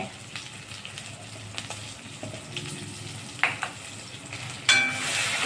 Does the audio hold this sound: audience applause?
no